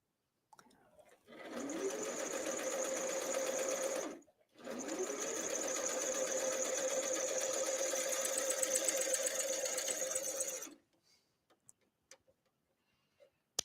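Coverstitch machine shirring fabric with elastic thread, looper tension raised and thread tension lowered, running in two steady bursts of rapid even stitching with a brief pause between, close and clear with no talk.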